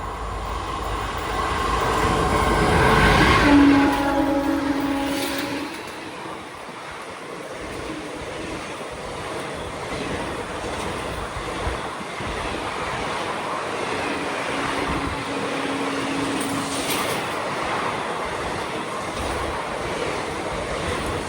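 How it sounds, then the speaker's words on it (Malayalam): The Mangaluru to MGR Chennai Central Mail arrives as a loud rumbling roar that swells over the first few seconds and then settles into a steady rolling clatter of passing wagons, with tonal horn-like notes rising briefly. "ആദ്യം വരുന്ന train Mangaluru MGR Chennai central മെയിലാണ്"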